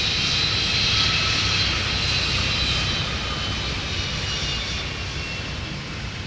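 An airliner powered by Pratt & Whitney PW2000 jet engines, likely a Delta jet at Minneapolis–Saint Paul airport, sending a loud, steady engine roar close by that fades slightly while staying constant throughout.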